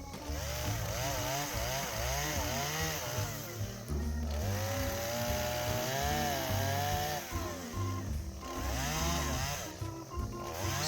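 A low-powered chainsaw cutting thin firewood sticks one at a time, its engine droning loud and close and rising and falling in pitch as each cut bites and the motor slows under load.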